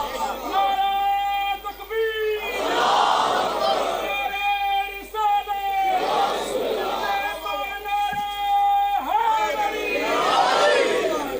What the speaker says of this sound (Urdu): ہمیشہ نعرے ایسے لگتے ہیں یا آج ایسے لگ رہے ہیں؟